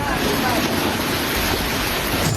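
Floodwater of the Ganges roars past a village in Ballia as a dense, unbroken rushing wall of sound, loud and close throughout.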